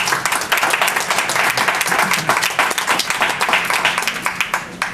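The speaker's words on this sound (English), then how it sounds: "If you please join me in a warm round of applause for Jacob." An audience claps warmly after a speaker is introduced at a book talk, a dense, steady round of applause lasting several seconds without a break.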